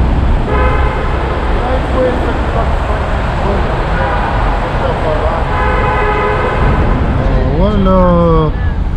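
Car horns honk repeatedly in a traffic jam on the Transfagarasan mountain road, with several overlapping tones over loud road noise, and a longer multi-tone horn blast near the end.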